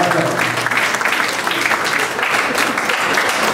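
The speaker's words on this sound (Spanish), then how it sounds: "Un aplauso, por favor." Loud, continuous applause fills an international conference hall, a dense wash of clapping hands from the audience that holds steady throughout with no voices rising above it.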